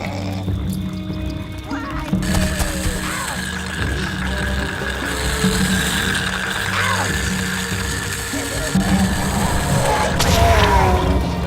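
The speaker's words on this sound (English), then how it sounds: "here we've got another one of the bombs" Bomb blast in the video game Overlord, a loud sustained rumbling explosion with debris and clanking effects layered over game noise, with a sharper burst near the end.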